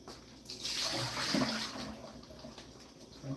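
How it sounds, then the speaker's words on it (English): Water runs into a pot being rinsed out, a soft, fairly quiet gush of splashing that swells and then eases over a few seconds. "Rinse that out."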